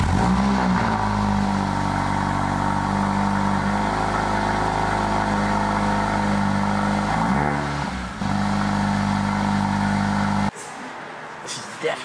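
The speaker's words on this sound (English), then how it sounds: "when you actually turn the engine and start it up, it really does make a nice sound" A Mercedes-AMG CLA45 engine idles with a deep steady rumble, swells briefly in pitch as it revs, then settles back before cutting to quieter background.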